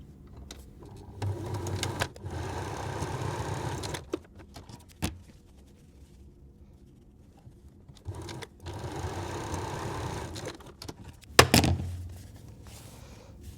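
A sewing machine stitches quilt background pieces for a patchwork flower block in two steady whirring runs separated by a quiet pause, with clicks and thunks from the machine between runs.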